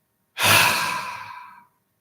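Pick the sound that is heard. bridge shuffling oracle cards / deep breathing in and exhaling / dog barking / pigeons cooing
deep breathing in and exhaling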